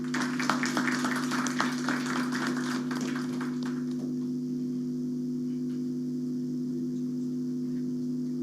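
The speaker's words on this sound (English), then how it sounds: "let's give a round of applause" An audience applauds at a formal event as a keynote speaker, Dr. V. Anantha Nageswaran, is welcomed; the clapping lasts about four seconds over a steady low electrical hum, which continues alone afterward.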